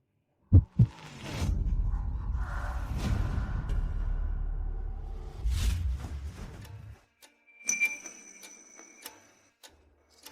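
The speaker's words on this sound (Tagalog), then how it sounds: "Ang bilis ng tibok ng puso ko." A fast heartbeat sound effect in a dramatic scene plays as low, thumping pulses under swelling whooshes and rumbles, then cuts to quieter sparse ticks and a high ringing tone.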